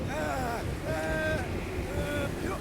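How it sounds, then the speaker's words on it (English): Strong wind gusts in the Guardians of the Galaxy video game, a constant roaring wind wash with whistling, rising and falling tones, fairly loud and unbroken, with game voices faintly mixed in. "overpower such tremendous gusts"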